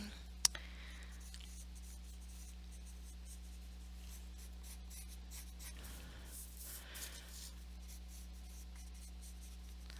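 Pencil scratching faint, steady sketch lines across paper while filling areas of an op art drawing, with a low background hum and one sharp tap near the start.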